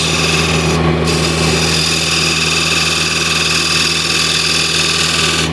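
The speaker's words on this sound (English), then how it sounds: "With the skew I can undercut this." Skew chisel undercutting a wooden spindle on a lathe, a steady rubbing, rasping cut over the constant hum of the running machine, close and continuous with no talk.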